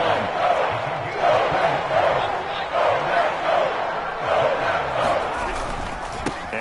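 A stadium crowd roars in the American football video game Madden 22, a loud, steady wash of cheering and shouting that swells and dips slightly without pause, with no commentary over it.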